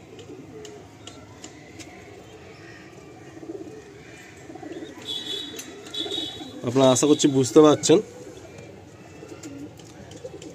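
Several active pigeons coo in a loft, their low burbling rolls running throughout. Someone speaks over them for a few seconds partway through.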